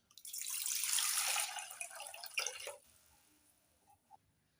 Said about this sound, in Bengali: এবার হালকা উষ্ণ গরম জলটা আমি একটা পাত্রে ঢেলে নিচ্ছি।